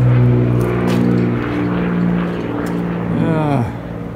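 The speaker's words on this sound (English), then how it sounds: "I live right next to an airport and people do touch and goes all day on Saturday" A small propeller airplane doing touch-and-go landings at a nearby airport drones loudly overhead, its steady buzzing tone dropping sharply in pitch as it passes and fades.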